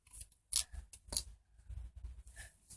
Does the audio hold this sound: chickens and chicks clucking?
no